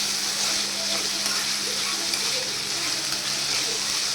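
Tomatoes frying in a pan for bombil bhaji, a steady, close, unbroken sizzle of hot oil with faint stirring underneath, no talking.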